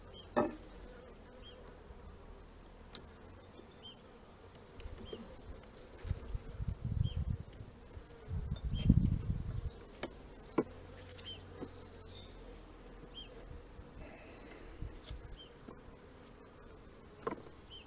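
Honey bees buzz in a Mini Plus beehive during a hive check, a low steady drone close by that swells louder for a few seconds in the middle, with scattered light clicks and knocks.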